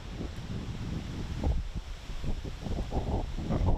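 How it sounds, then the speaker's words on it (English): Gusty wind buffets the microphone in low, irregular rumbling bursts, fairly loud and continuous throughout. "Incredibly windy day."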